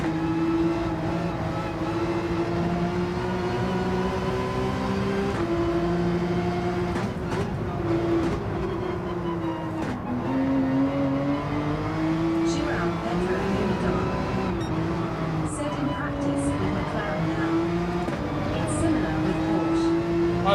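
A Porsche race car engine in Gran Turismo 7 drones steadily at high revs, its pitch wavering up and down through shifts and throttle changes, with a voice talking over it at times.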